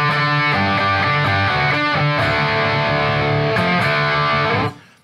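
Heavily distorted electric guitar chords, thick and fuzzy with a saturated buzz, chug in a rhythmic riff before cutting off abruptly.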